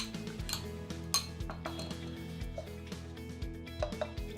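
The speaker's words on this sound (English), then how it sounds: "Now you just want to mix this in until the calcium lactate and the sugar dissolve into the liquid" Calcium lactate and sugar being stirred into mojito liquid with a utensil, giving repeated close clinks and scrapes against the container in an irregular rhythm, with no talking.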